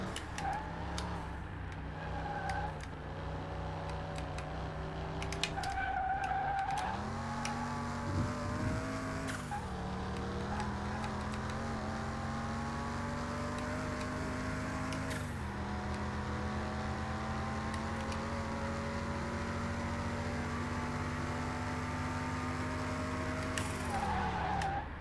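A race car in the Car Mechanic video game drives hard through a corner, its engine droning steadily with pitch rising and falling across several gear changes, while brief tire skids and squeals cut in along the way.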